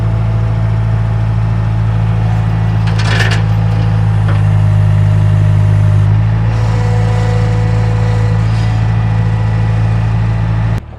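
A Ferguson TO20 tractor engine idles and runs steadily as it is driven into a shop, a loud, low, continuous throb with a few metallic clinks and rattles partway through.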